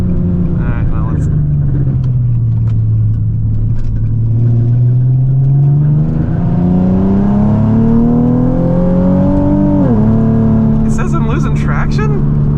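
Nissan 370Z Nismo engine drones and swells through rising and falling revs, dipping sharply on an aggressive downshift before settling, loud and continuous under faint cabin noise.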